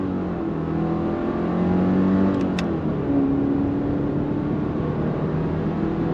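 A 2024 Subaru Impreza RS hatchback with all-wheel drive accelerates hard from a standstill, its engine droning loud and steady from inside the cabin as revs climb and briefly shift, with no talking.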